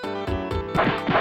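Crunchy 16-bit punch and hit effects from the SNES beat-'em-up Rival Turf, several thwacks landing in quick succession over a slap-bass music track.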